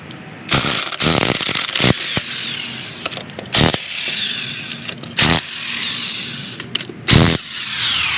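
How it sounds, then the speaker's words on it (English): An impact wrench with a 19mm socket spins lug nuts off a Jeep wheel in a shop, giving loud, close bursts of rattling whir separated by short pauses, about five or six in a row. "now we're just going to zip those other lugs off and pull this wheel off"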